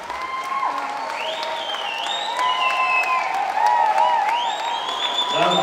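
Audience applause greets a speaker at a party gathering, a continuous wash of clapping with some cheering, overlaid by sustained whistle-like tones that rise and fall throughout.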